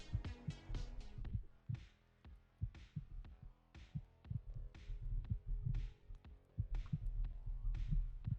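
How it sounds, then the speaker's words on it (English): Heartbeat effect plays during a Dungeons & Dragons 5e session on Foundry VTT, a slow, steady series of deep double thumps about once a second, moderately loud, with no voices. "Can everyone hear the heartbeat?"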